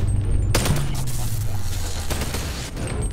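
Gunfire in the VR shooter Boneworks, with a sharp close shot cracking through a dense rumbling barrage of game noise and a few further bursts, loud and continuous throughout.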